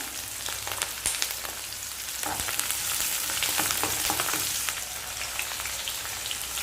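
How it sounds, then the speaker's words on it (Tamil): Small shallots sauté in hot oil with mustard seeds, fenugreek and curry leaves for a Tamil elephant-yam kuzhambu, a steady loud crackling sizzle with bursts of popping and stirring, no voices. "உரிச்சு வச்சுருக்கிற சின்ன வெங்காயத்தை சேர்த்து வதக்கிக்கிடணும்."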